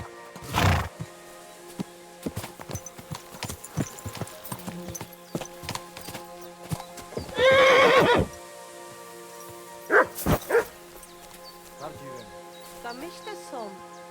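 Hooves clop along steadily while a horse whinnies loudly midway, with game music and scattered sound effects playing throughout, in the video game Kingdom Come: Deliverance 2.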